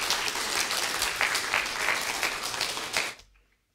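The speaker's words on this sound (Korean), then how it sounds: "우리 박수로 환영하도록 하겠습니다." A Korean church congregation in Regina claps to welcome a preacher to the pulpit during Sunday worship. Steady, close applause runs for about three seconds, then fades quickly into silence.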